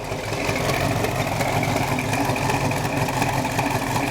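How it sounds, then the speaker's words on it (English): A 1970 Dodge Challenger R/T convertible idles steadily with a throaty, continuous exhaust rumble, close by and fairly loud, with no talking. "Challenger exhaust tips, man, they make some crazy noises."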